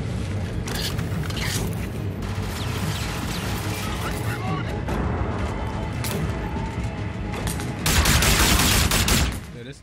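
Repeated shotgun fire and mechanical clatter in the Call of Duty Infinite Warfare campaign: steady loud shooting throughout, swelling into a heavier burst of blasts near the end, with some voice mixed in.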